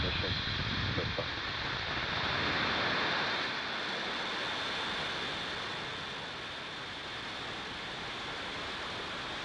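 Recreated Falcon 9 rocket liftoff for a Starlink mission: a steady, dense broadband roar that peaks early and holds, with a voice talking faintly beneath it.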